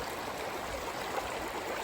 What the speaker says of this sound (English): as running water in a stream